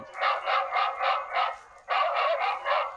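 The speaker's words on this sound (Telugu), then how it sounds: "ఇక ఈ కుక్క మొరిగిన సప్పుడిని అటుకేలు అట్టే పోతున్నాయట దూరంకెళ్ళే కోతులు" A recording of a dog barking is played in farm crops to scare off monkeys. The loud, rhythmic barks come in two quick runs of about five each with a brief gap between them, with no other sound.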